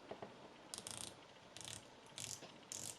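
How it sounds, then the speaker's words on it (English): A ceramic 120-click dive watch bezel turned by hand, giving four short bursts of crisp, close ratchet clicks separated by brief pauses, quiet and isolated. "The bezel, like I said, ceramic, 120 clicks, so let's try it."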